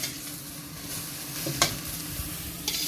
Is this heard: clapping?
no